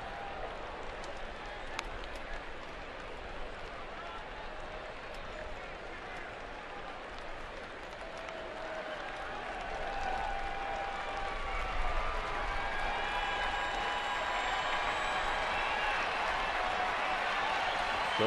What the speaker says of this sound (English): So the crowd's starting to get into it with Hudson at the plate.